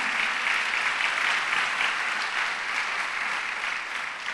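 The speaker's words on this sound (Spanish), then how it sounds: "Denle una ofrenda de palmas al Señor." A church congregation claps steadily and loudly during a Spanish-language service, a sustained wash of applause with no break and no talk over it.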